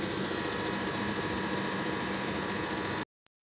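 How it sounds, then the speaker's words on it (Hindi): Loud, steady whirring drone of an air conditioner running in a home, a constant mechanical hum close to the mic that fills the clip before cutting off abruptly near the end. "हमारे एसी की आवाज़ बहुत ज़्यादा आ रही है"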